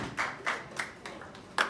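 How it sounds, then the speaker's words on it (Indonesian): A church congregation at a sermon for a teens group claps for a few young people, and only a handful of sparse, separate claps are heard, spaced unevenly across under two seconds. "Yuk kita tepuk tangan buat teman-teman kita."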